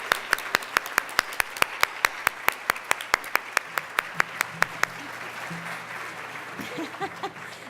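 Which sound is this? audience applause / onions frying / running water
audience applause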